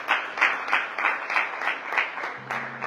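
Church congregation applause during a sermon, loud rhythmic clapping in regular pulses roughly every quarter second, close and full, with a brief held tone near the end.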